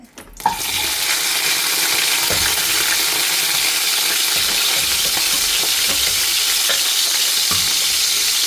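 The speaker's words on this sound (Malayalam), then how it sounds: "വെന്ത് വന്ന ഇറച്ചി നമുക്ക് ഈ കടായിലേക്ക് മാറ്റി കൊടുക്കാം. അതിൽ കുറച്ച് ഓയിൽ ഒഴിച്ച് കൊടുത്തിട്ടുണ്ട്." Cooked mutton hisses and sizzles in hot oil in a kadai, a loud steady frying roar starting after a brief clatter and continuing with occasional stirring scrapes.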